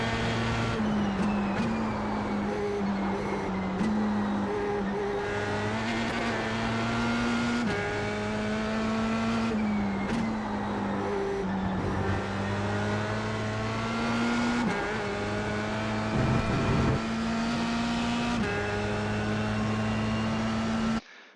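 Open-wheel Formula Sprint car lapping Lime Rock's chicane layout in iRacing, engine droning loud and steady for the whole stretch, pitch climbing through the gears with brief drops on upshifts and braking.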